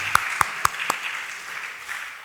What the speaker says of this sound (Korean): 우리 가운 빤다고 수고하고 계신 분들 위해서 박수 한번 칠까요?